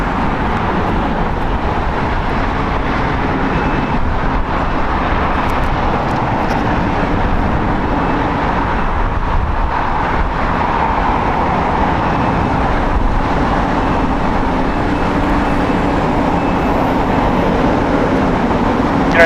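A Hawaiian Airlines Airbus A330, seven years old, departing from the north side of Los Angeles International Airport, a broad steady roar of jet engines that holds loud and even for nearly twenty seconds, with no talking.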